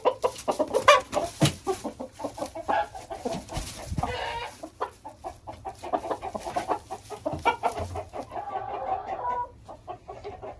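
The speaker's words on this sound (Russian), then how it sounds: "Ну и третьего петуха я отпущу сюда." A young rooster, about six and a half months old, clucks among hens in an enclosure, a string of close, uneven clucks and calls over quiet farmyard background.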